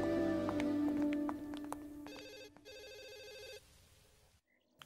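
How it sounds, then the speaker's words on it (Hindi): A telephone rings repeatedly in close, trilling bursts, then falls silent, with no voices over it. "किसका फोन है देखो"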